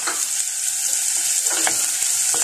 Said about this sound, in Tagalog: igigisa ng mabuti yung sibuyas guys